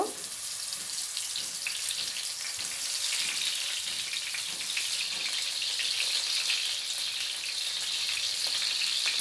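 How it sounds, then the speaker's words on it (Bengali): Eggplant slices fry in hot soybean oil with a steady, dense sizzle that stays loud and close for the whole stretch, with no voices. "তেলটা গরম হয়ে গেলে এখানে বেগুনগুলো দিয়ে দিব"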